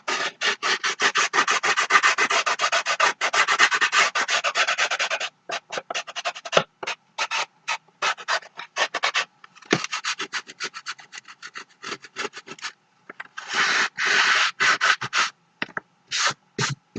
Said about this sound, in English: You can use anything just to sand down the edges here.